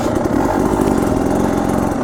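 Enduro dirt bike engine pulling hard up a steep hill, loud, steady buzzing drone held close for a couple of seconds with no break.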